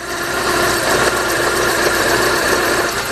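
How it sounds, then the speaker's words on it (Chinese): A car engine with a broken engine mount runs steadily with an abnormal noise, a continuous close mechanical drone and rattle holding level for the whole stretch. "车子发动机突然有异响是怎么回事"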